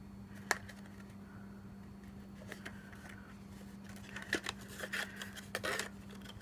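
Scissors snip at craft material while a mini purse is assembled, several quick sharp cuts clustered toward the end over a steady low hum, fairly quiet and close, with no talking.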